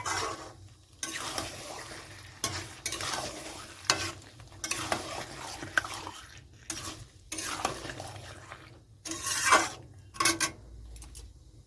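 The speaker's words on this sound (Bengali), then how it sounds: "চিকেনগুলো সব দেওয়া হয়ে গেছে, এখন এটা আমি ভালো করে কষিয়ে নিচ্ছি" Chicken pieces being stirred and sautéed in a pan, the spatula scraping in repeated bursts over a steady, close sizzle with no voices.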